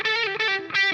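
Electric guitar played through an EarthQuaker Devices Zoar distortion pedal, a thick, aggressive, amp-like gritty tone; a short sustained chord phrase rings out loud and alone with slight rhythmic breaks.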